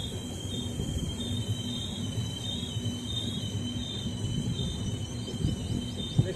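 A train runs along a railway line through Purulia district, with a steady rolling rumble of wagons and a continuous high metallic whine from the wheels, heard close and constant throughout.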